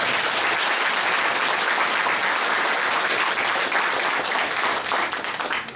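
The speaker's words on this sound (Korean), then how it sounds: "제 말이 맞으면 박수 한번" Audience applause at a political speech in Jecheon, a full, dense burst of many hands clapping with crowd noise, loud and sustained, easing slightly toward the end.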